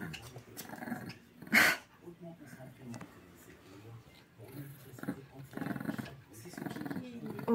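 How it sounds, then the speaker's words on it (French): Suki, a dog, growls low and softly while playing, a rumbling sound under French-speaking voices in a quiet room, with a sharp bump partway through. "Oui, c'est Suki qui grogne."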